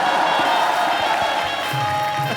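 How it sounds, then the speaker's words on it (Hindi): A studio audience on The Kapil Sharma Show claps and cheers in a continuous wash of crowd noise. A steady hum sits underneath, with some faint background voices. "तालियां बजाना।"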